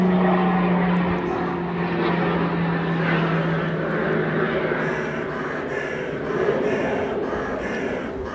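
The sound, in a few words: airplane flying overhead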